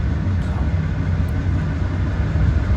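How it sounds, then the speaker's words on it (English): Slow, long freight train passing in Decatur, Alabama, a steady loud rumble and rolling rail noise with faint squeals, continuous and close, no talk. "this train took several minutes to pass, as slow as it was going and as long as it was."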